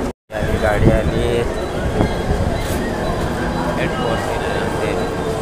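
A Mumbai suburban train pulls into Andheri station with a steady loud rumble of wheels and carriages, rail clatter and faint squeals throughout, platform voices mixed underneath.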